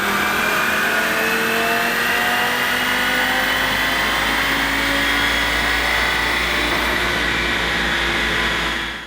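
A Stage 1 flex-fuel tuned Audi RS3 revs hard on a dyno, its engine note rising steadily in a loud, continuous pull that holds for several seconds before cutting off near the end.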